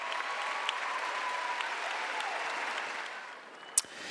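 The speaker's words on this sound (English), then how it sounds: "show them your round of applause." Audience applause for elementary school students at a music festival, a steady dense clapping that holds evenly for several seconds and fades slightly near the end, with one sharp louder clap standing out.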